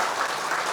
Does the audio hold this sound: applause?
yes